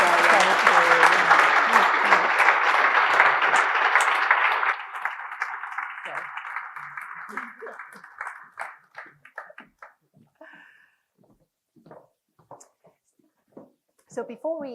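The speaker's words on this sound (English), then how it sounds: "A very warm round of applause," An audience at an International Women's Day evening event gives a warm round of applause, loud and full at first, then thinning into scattered claps that fade away as a voice begins to speak.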